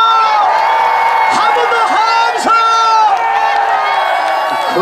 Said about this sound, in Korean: 우리 함성을 한번 들읍시다